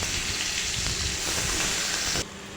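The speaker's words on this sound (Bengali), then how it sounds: "আলুটার মধ্যে সামান্য একটু লবণ দিয়ে ভেজে নেব।" Potato pieces with a little salt fry in oil in a wok, a loud, dense hiss of sizzling heard close and steady, cutting off abruptly near the end, with no voices.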